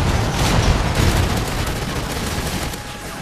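Dense, rapid video game gunfire rattles continuously at close range, loud and almost unbroken, with no voices over it.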